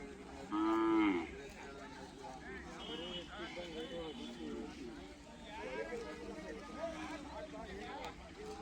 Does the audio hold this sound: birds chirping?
no